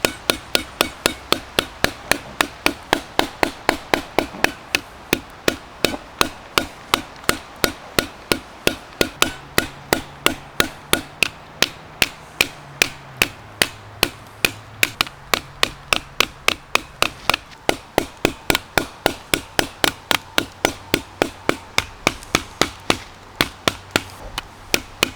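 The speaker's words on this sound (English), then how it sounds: "We're gonna actually take the red dot and give it some good proper smacks against this tree" A red dot optic is smacked hard against a tree again and again, a long rapid series of sharp, loud knocking impacts in a fairly steady rhythm with brief pauses between bursts.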